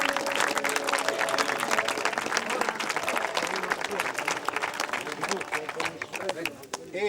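Crowd applause at a roadside monument dedication on a mountain pass, greeting a donated mosaic; loud, dense clapping fills the whole stretch, with voices murmuring and calling underneath and a brief dip near the end.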